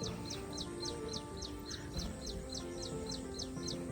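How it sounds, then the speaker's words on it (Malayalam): A bird repeats a short, sharp chirp at a quick, even pace, about a dozen times, faint against a soft background hum, at the Karingalil Puncha wetland in Kerala. "കിളികളുടെയൊക്കെ സൗണ്ട് കേട്ടില്ലേ?"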